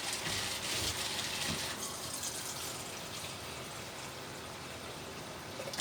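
Water pours steadily into a Cuisinart measuring cup until it holds 240 ml, a continuous close-up gush like a running tap with no talking.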